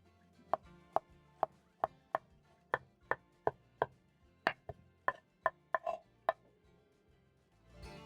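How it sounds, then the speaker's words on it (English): Knife cutting thin half-moon slices of onion on a board, a steady series of about fifteen crisp, close chops with short pauses between strokes, ending in a softer scrape. "You're going to cut your onion into half moons, just like this. Make sure you thinly slice your onion."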